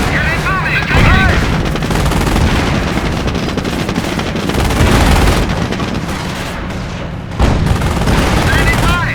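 Heavy gunfire rages in Company of Heroes during Operation Market Garden, with rapid machine-gun bursts, rifle shots and booming blasts layered continuously as soldiers' voices call out over the combat.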